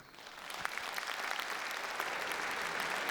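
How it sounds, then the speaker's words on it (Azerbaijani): An audience at a comedy concert breaks into applause, quickly swelling into dense, sustained clapping from a large hall crowd that continues at full strength to the end. "hamınız alqışlayasınız"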